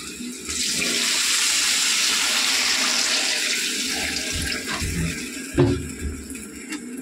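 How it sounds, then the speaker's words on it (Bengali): Tap water runs steadily into a cooking pot holding a fried ginger and chili paste, a loud continuous gushing that lasts several seconds before easing off, followed by a brief clunk near the end. "এবার আমি এর মধ্যে জল অ্যাড করবো।"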